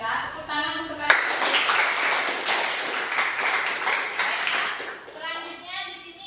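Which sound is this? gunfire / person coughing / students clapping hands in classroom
students clapping hands in classroom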